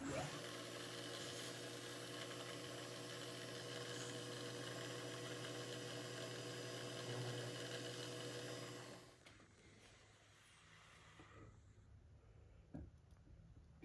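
A power drill whirs steadily for about nine seconds, opening a bolt clearance hole in an engine muffler part, then cuts off, leaving a quieter room with faint clicks and handling noises.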